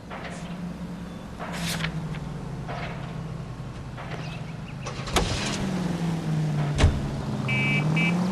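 A car driven in the video game L.A. Noire: a low engine hum rises and falls in pitch as it accelerates, with a few brief clicks and knocks over the running motor.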